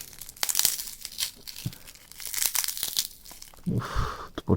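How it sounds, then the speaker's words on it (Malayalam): A tempered glass screen protector for a Redmi Note 3 phone cracks and crunches, giving a series of irregular sharp snaps and gritty crinkling bursts close by. "ലൈവായിട്ട് പൊട്ടിക്കാണല്ലോ ടെമ്പേർഡ്"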